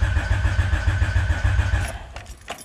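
A car engine cranks in a rapid, even starter rhythm for about two seconds without catching, then cuts off, leaving a few faint clicks and a key rattle. The car has a fuel pump priming fault.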